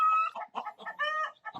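Farm chickens clucking and calling close by, a few short overlapping bird phrases with one longer sustained call, no talking.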